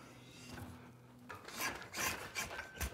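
A drawknife shaves thin curls off wood during Windsor chairmaking, a few close, rasping strokes that scrape and swell in short bursts over a quiet background.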